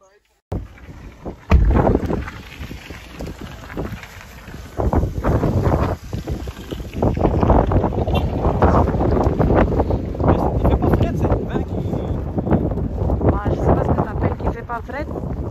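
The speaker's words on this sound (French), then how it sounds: "le vent est en train de me secouer" Strong gusts batter the microphone in heavy, buffeting bursts, with rushing wind and water-like noise and a voice speaking underneath.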